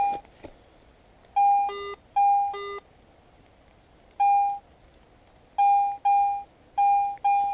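Short electronic beeps from a metal detector over a silver target under a tree root in Scotland sound in irregular clusters, some tones jumping up and down in pitch, over a quiet background.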